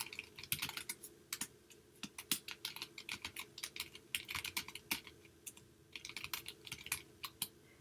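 Continuous typing on a computer keyboard while an email address is entered into a support ticket, with rapid, irregular clicking keystrokes close up and steady, heard alone.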